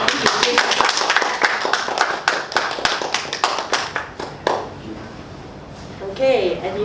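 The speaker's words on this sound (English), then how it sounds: "Let's continue clapping up." An audience claps at a Toastmasters club meeting after a speech, a dense burst of close hand claps that thins out and fades over several seconds as a voice begins talking.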